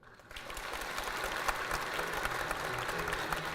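An audience applauds after a presidential speech at a Daejeon event, a dense, sustained clapping that swells quickly and carries on evenly, heard alone without talk.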